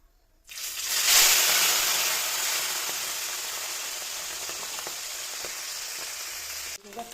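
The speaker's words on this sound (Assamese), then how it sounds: "এতিয়া মই মাছখিনি ভাজি ল'ম" Fish hits hot oil in a kadai with a sudden loud sizzle. The frying hiss then settles into a steady crackle, with occasional small pops and light stirring, close by and without talk.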